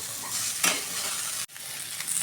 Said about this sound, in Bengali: বেগুনটা দেওয়ার পর আবার একটু ভালো করে নাড়াচাড়া করে নিচ্ছি।